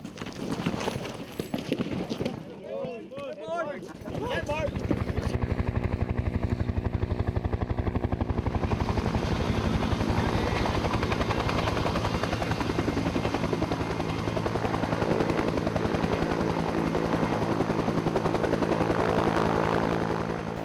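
A military helicopter carrying 42 airborne soldiers for a round-parachute jump at Floridablanca, Pampanga, its rotor thudding loud and steady from about five seconds in after a quieter, muffled start.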